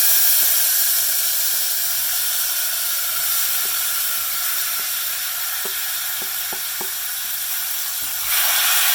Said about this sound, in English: Let the mustard seeds splutter and then we can add the tomatoes.